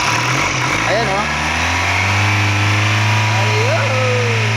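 A Ford Raptor engine revving, a loud, close engine rising in pitch and holding a sustained high drone, with people talking over it.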